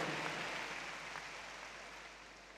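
An audience at the Bonjour 2014 stage show applauds, making a faint, steady wash of many hands clapping that slowly dies down.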